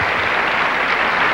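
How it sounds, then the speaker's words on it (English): Studio audience applause at the Jerry Lewis Telethon, a dense, loud wash of many hands clapping together, sustained and even for the whole brief moment with no voices over it. "I don't understand why you applaud, but it's nice"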